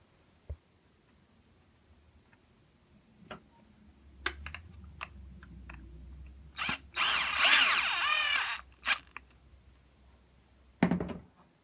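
A Flex PE8 Kompact rotary polisher motor whirs up for about two seconds with a rising, wavering whine, set among scattered clicks and taps in an otherwise quiet room.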